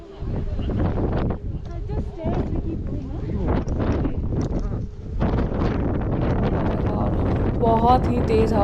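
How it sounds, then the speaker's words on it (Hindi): Strong wind blasts across a hilltop peak, buffeting the microphone in loud, ragged gusts with brief lulls, a roaring rush that stays constant throughout. "बहुत ही तेज़ हवा चल रही है यार, बहुत तेज़ हवा चल रही है।"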